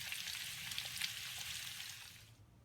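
Peppers and onions sizzle in a pan beside grilled sausage, a steady crackling hiss with no one speaking that thins toward the end.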